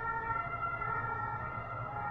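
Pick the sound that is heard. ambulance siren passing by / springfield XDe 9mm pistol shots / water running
ambulance siren passing by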